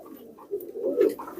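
Pakistani teddy pigeons coo close by in a short series of low, soft, rolling calls that swell toward the end.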